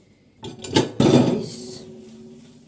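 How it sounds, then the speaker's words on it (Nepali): Ceramic dishes being washed by hand in Japan clink together: two sharp knocks, then a louder clattering ring that slowly fades, close by with no voices. "यो सेरामिक वाला भाँडा के टिङ बज्नेवाला भाँडा"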